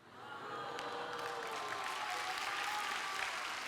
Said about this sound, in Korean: 이런데 박수 받는 건가요?